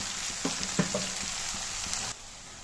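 Eggplant sautés in a hot pan with a steady sizzle and a few soft stirring knocks, and nobody speaks.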